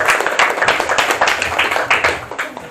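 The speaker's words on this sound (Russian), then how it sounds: "Аплодисменты сами себе" A small open-mic audience in a café clapping for themselves, dense close hand claps in uneven bursts that taper toward the end.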